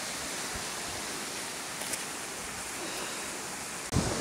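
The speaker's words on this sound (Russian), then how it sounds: "Тут ручей протекает." A forest stream flows steadily through an autumn wood, giving a constant broadband rush of running water mixed with wind, with a brief louder bump near the end.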